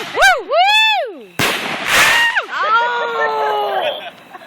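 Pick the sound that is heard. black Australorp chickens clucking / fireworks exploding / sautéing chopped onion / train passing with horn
fireworks exploding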